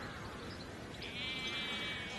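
A sheep bleats on wide grazed grassland parkland, a single drawn-out call rising in the second half over a soft outdoor wash of background noise, fairly faint and distant.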